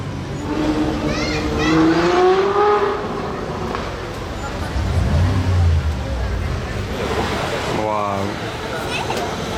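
Ferrari F12 sports car passing on a busy seafront street in Juan-les-Pins, its engine swelling loud mid-clip amid traffic noise, crowd babble and people talking nearby.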